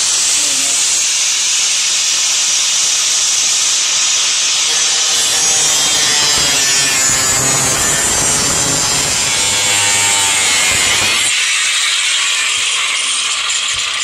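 Power tool cutting through the metal of a Jeep shifter, sparks flying, makes a loud, steady high-pitched hissing grind that holds for the whole stretch and deepens and roughens in the middle before easing back.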